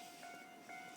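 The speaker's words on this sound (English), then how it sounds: "you get to see a train coming by and me waiting here at the train crossing" A train rolls past a railway crossing in Japan, heard at moderate distance as a steady rumble with two brief high crossing-bell or horn tones ringing out over it, no voices.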